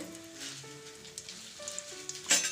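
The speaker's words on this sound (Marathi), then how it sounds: "आता आपले जिरे तळतळत आहेत" Shahi jeera (cumin seeds) frying in hot oil make a faint, continuous crackling sizzle, accompanied by soft sustained background tones and no talking.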